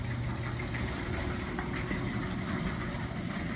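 Steady low rumble of a car engine idling inside a home garage, continuous and even in level, with no voices over it.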